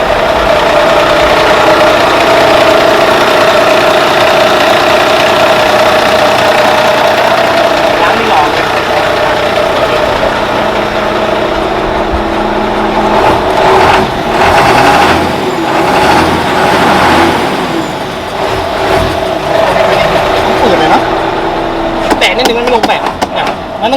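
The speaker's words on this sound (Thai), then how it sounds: "เดี๋ยวสตาร์ทให้ฟังเสียงเครื่องนะ เครื่องนิ่มๆนะ" A Mitsubishi Fuso 240-horsepower dump truck from 2014-2015 runs at a steady, loud diesel idle close by, a continuous low rumble with someone talking over it.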